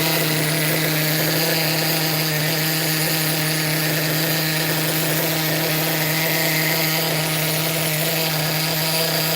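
A Kyosho GT1 nitro RC car engine runs steadily at close range, a loud continuous buzzing drone with a strong steady pitch and no breaks.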